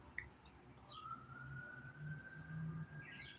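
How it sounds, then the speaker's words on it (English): Faint, far-off siren wail rising and holding a high tone over low background rumble. "I hear lots of sirens going off too,"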